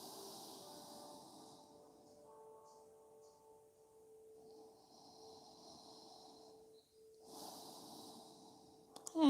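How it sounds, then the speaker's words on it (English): Slow nasal breathing during a yoga session: soft, airy inhales and exhales in long, even cycles, close and quiet, with a faint steady hum underneath and a brief louder rustle at the very end. "breathing through your nose"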